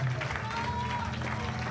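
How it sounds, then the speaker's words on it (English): A church congregation at a Sunday service claps hands in praise, a dense, steady wash of clapping running the whole moment beneath sustained low musical tones. "Let's give God one more hand clap of praise this morning."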